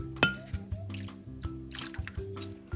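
Sake and water poured into a cooking pot, a short splashing trickle of liquid with small drips, close by and fairly quiet.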